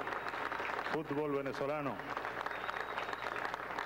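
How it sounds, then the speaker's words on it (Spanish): A crowd applauds the Vinotinto, Venezuela's national football team, at a ceremony at Bolívar's birthplace. The clapping runs as a steady background wash while someone speaks over it. "Un aplauso pido para nuestros muchachos de la Selección Nacional de"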